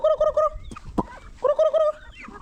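Muscovy ducks calling nearby in a loud, repeated run of harsh, throaty notes, broken by a short pause with a sharp knock and then another burst of calls.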